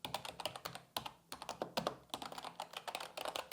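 Rapid typing on a Logitech G213 gaming keyboard up close, crisp clacky keystrokes in quick irregular bursts with brief pauses, no voices.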